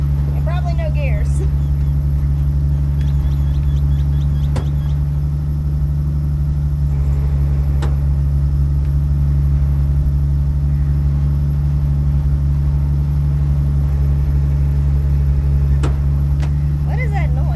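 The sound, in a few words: car engine idling in a garage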